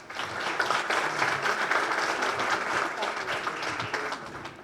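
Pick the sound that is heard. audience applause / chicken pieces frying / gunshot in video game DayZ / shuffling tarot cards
audience applause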